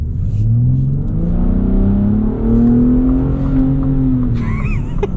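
Ford F-150 Raptor pickup with the 37 Package, exhaust set to Baja mode, accelerating hard: a loud, steady engine roar rising in pitch through the gears, heard up close from inside the cab.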